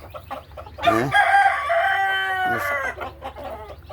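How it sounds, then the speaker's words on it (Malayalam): A Fayoumi rooster crows loudly and close, one long drawn-out call, framed by the soft clucking of Fayoumi hens before and after. "ഫയോമിയ കോഴികളാണ്."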